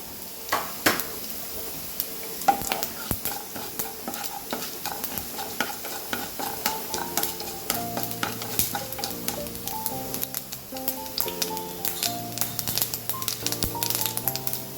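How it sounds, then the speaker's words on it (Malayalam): Mustard seeds and urad dal frying in oil give rapid, irregular popping and crackling over a soft sizzle, close and busy throughout, with steady background music and no speech. "കുറച്ച് കടുകും കുറച്ച് ഉഴുന്നുപരിപ്പ് ഇട്ട് കൊടുക്കുന്നുണ്ട്"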